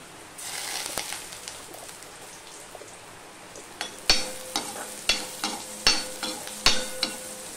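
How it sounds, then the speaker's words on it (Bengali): Sliced onions fry with salt and turmeric in a pan, a soft steady sizzle broken by a series of sharp scraping stirs of the spatula that come every second or so, close and without talk. "দেখো পেঁয়াজটা একটুখানি লাল লাল হয়ে ভাজা হয়ে গেছে।"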